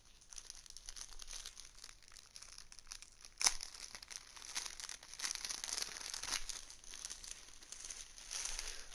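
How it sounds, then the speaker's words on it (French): Wootbox package being unboxed, with steady crinkling and crumpling of packaging over several seconds, one sharp tear near the middle, fairly quiet and close with no talking. "On va déballer tout ça."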